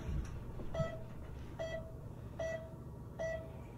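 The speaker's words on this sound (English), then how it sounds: "And during that whole time, the beeping stops." Beeping from a played video clip: four short, evenly spaced electronic beeps, fairly quiet over a faint background hiss, with no one talking.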